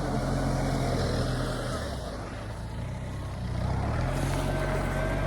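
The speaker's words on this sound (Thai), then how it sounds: "วันนี้ พา มาดูรถไถ" Tractor tilling a flooded rice paddy just after light rain, a continuous engine rumble with shifting pitch, moderately near and steady throughout.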